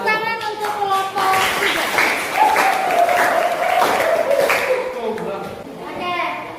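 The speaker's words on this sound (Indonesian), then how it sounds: "Kasih tepuk tangan untuk kelompok" A classroom audience applauds a student group after their presentation, with steady clapping under the voices of children and adults talking over it.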